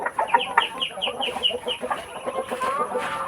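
Pet chickens at a rural farm cluck close by in quick, repeated bursts, several birds overlapping in a busy, fairly loud chorus.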